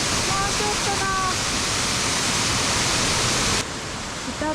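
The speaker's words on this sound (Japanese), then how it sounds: "滝はあの真ん中。" Ōtsuka waterfall on the Ōtanazawa stream in the Southern Alps roars as a steady, loud broadband rush, with a voice speaking briefly over it; the roar drops slightly near the end.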